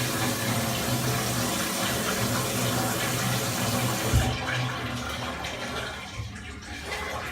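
A shower runs with a steady, loud broadband hiss of spraying water that carries on throughout, easing off and thinning slightly toward the end.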